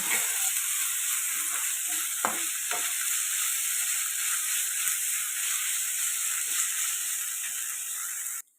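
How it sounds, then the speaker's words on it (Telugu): A large spoonful of freshly pounded ginger-garlic paste fries in a pan with a steady, dense sizzle throughout, broken by a couple of brief stirring knocks, and no voices. "ఇది కూడా పచ్చివాసన పోయేదాకా ఫ్రై చేసుకుందాం"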